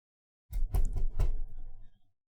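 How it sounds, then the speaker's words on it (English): Several quick knocks rapped on a closed bedroom door, sharp and close, in two short clusters followed by a fading thud-like rumble, with no voices. "When I went to go check on Dylan, I noticed his door was closed. I knocked."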